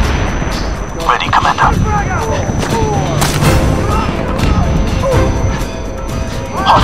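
Gunfire and explosive blasts from the video game SOCOM 4 U.S. Navy SEALs, scattered shots and booms under a busy battle din, with voices talking over the action.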